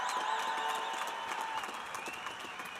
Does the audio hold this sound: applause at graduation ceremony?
yes